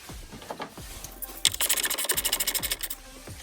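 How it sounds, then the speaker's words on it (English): Screws being undone on a Porsche Cayman S 987 engine during a spark plug and coil pack job, a close, fast rhythmic ratcheting burst following a few scattered clicks and taps. "you can just see me undo those screws"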